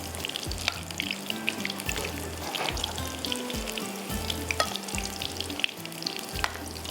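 Food frying in a pan while being stirred for a saffron porridge trifle, a steady close sizzle with scraping stir strokes throughout, no talking.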